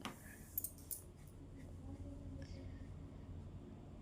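Scissors snipping through blouse fabric during tailoring, a couple of quick crisp snips near the start, then faint rustling over a low background hum, quiet overall.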